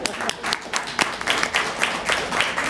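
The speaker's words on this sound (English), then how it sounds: "That's where the big applause comes in." Modest applause from a small comedy audience, scattered claps that rise and fall in uneven bursts, fairly close and moderately loud.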